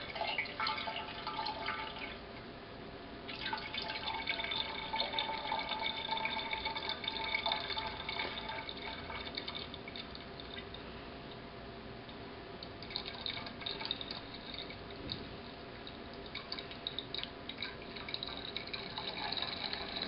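Home-brewed java stout pours steadily into a carboy, a continuous gushing, trickling liquid fill lasting throughout at moderate level, with no talk.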